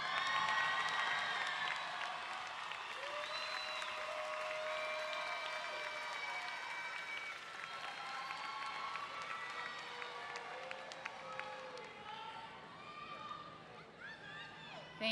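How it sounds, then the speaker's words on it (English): Commencement audience in the stands applauding graduates' families and friends, a broad sustained wash of clapping and crowd noise with scattered cheers, steady and fairly distant across the whole stretch, mixed with a few voices. "Please look to the stands and give them a round of applause."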